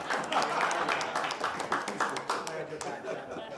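Audience applause breaks out at a news conference of state and local officials about fentanyl in the Abington area: a steady wash of many hands clapping for a few seconds, fairly close and evenly sustained.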